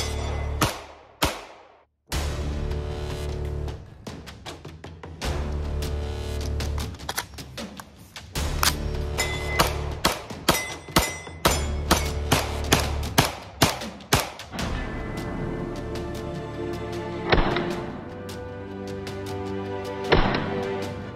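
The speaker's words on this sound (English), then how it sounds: "we're going to be shooting it through the new Extar EP45" An Extar EP45 pistol carbine fires Winchester Black Talon rounds in a long series of sharp, loud reports. Two come early, then a steady rapid string follows, and a few spaced final shots end it, with ringing tails between.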